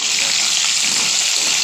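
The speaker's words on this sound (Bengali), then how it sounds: "আমার আলু ভাজা হয়ে গেছে।" Potatoes fry in a wok with salt and turmeric, making a loud, steady, hissing sizzle heard up close for a brief moment without pause or voices.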